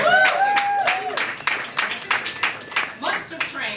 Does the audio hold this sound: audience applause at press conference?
yes